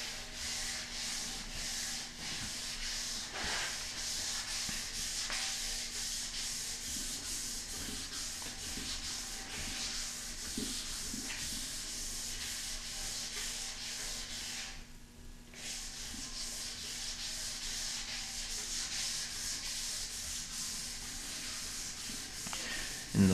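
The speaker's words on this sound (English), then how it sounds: "you won't have to do as much wet sanding" Steady scratchy rubbing of wet sanding on a rattle-can spray-painted high-gloss surface, continuous back-and-forth strokes with a brief pause midway, close and fairly loud.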